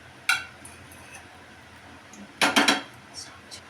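Roasted food is scraped from a pan onto a plate, with a sharp metallic clink followed by a quick cluster of clattering scrapes and taps, close and isolated against quiet room noise.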